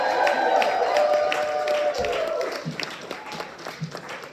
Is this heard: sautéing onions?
no